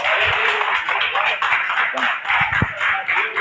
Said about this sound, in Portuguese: Você pode adorar a Deus com suas palmas?